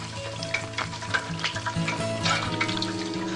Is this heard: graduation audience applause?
no